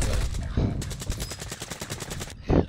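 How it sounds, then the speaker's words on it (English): Sniper gunfire in a video game, sounding as a rapid run of sharp, evenly spaced shots that holds for well over a second, with an earlier burst and a loud thump at the end, all mixed with faint game noise. "I got sniped by a different team"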